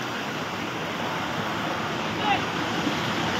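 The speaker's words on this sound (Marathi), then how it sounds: "फायनली आता आम्ही धबधब्यावर आलेलो आहे." Water roars steadily from a waterfall at a dam in the rain, a dense near rushing wash with no clear breaks.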